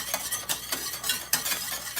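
Salted caramel filling starts to boil up in a pan, a soft sizzle running under rhythmic whisk strokes that scrape the metal every fraction of a second, close up and with no talk.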